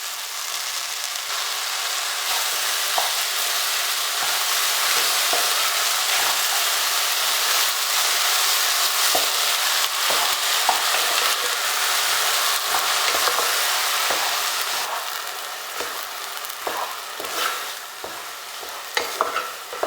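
Jackfruit cooks in a pan with grated jaggery, giving a continuous sizzling fry under repeated stirring scrapes and small clatters that thin out toward the end, close by and without voices.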